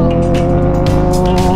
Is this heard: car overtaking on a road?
yes